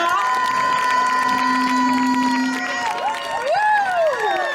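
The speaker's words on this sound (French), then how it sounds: "Allez, on l'applaudit bien fort, notre premier candidat." An audience at a village quiz game event applauds and cheers loudly as the first contestant comes on, with shouts and whoops over a continuous crowd roar and a steady tone running beneath.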